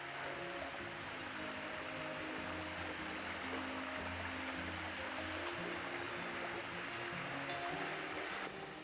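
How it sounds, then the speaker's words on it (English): Water spills steadily over a waterfall in a bush gully in a regional park, a constant loud rushing roar with no voices. "there's water coming over the waterfall"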